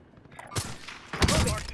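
Gunfire in Call of Duty Warzone crackles in two sharp bursts, a short volley followed by a louder, denser rattle, with faint voice chat underneath.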